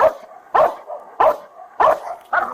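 A police K9 dog barks five times in evenly spaced, loud, close barks during a SWAT operation, with no talk between the barks.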